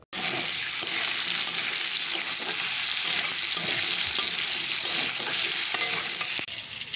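Food sizzles loudly as it fries in a pan and is stirred, with scraping and clinking strokes over a constant crackle in a home kitchen; the sizzle drops briefly near the end.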